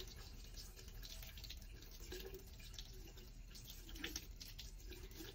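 Hands being rinsed under a running sink tap during handwashing practice for medical assistants, a steady, fairly quiet wash of flowing water with small splashes, no talk.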